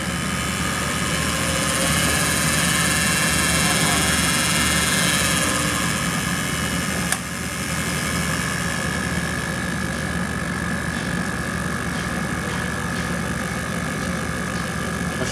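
A vintage Sun distributor tester spins an eight-cylinder distributor at 400 RPM with a loud, continuous, even mechanical whir. A single sharp click sounds about halfway through.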